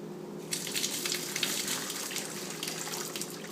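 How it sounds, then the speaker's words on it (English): Steady, dense rushing and bubbling of liquid nearly boiling in a pot, a continuous close hiss with no pauses and no voices. "It's almost boiling, so it's time to turn it off"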